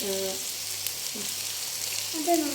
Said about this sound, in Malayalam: നല്ലോണം പൊരിഞ്ഞോണ്ടിരിക്കാൻ ഒരു സൈഡ് മറിച്ചിട്ട്